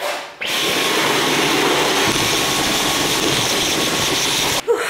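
A Dyson vacuum cleaner cleaning a kitchen starts abruptly and runs as a loud, steady motor roar with a high whine for several seconds, then cuts off at the end.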